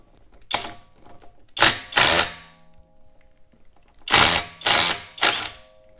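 A DeWalt DCF901B 12-volt impact wrench loosens lug nuts in about five sharp hammering bursts, one short and then two pairs grouped together, each loud and close with brief quiet gaps between.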